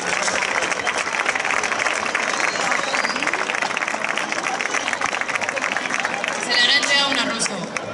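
A festival crowd at the Hoya del Campo fiestas applauds the newly presented queen, a dense, steady wash of clapping with murmuring voices underneath, loud and sustained throughout.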